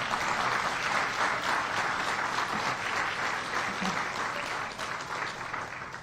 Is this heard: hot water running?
no